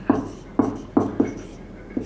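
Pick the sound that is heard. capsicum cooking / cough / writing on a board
writing on a board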